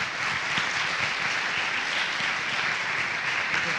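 Audience applause after a university lecture, a steady dense wash of many hands clapping, sustained and even throughout with no voices over it.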